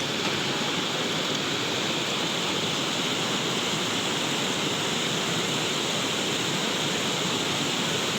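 Swift current of the Batang Anai river rushes in a steady, dense roar of water noise, constant and unbroken throughout with no voices.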